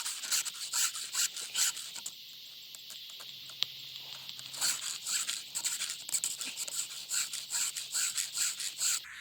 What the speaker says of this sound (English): I hate sharpening chains.